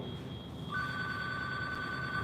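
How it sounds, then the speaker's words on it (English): A telephone rings steadily with a sustained electronic tone that keeps going without pause, moderately loud over a faint background hum, with no one talking. "it's gonna keep ringing, but there's nothing on the phone"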